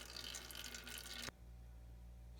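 Differential oil drains out of an off-road vehicle's diff in a quiet, trickling liquid stream that cuts off suddenly partway through, leaving a low hum; no speech.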